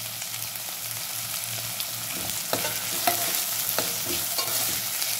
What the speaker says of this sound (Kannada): ಎಲ್ಲ ಮಿಕ್ಸ್ ಮಾಡಿ ಸರಿಯಾಗಿ ಬಾಡಿಸ್ಕೋಬೇಕು.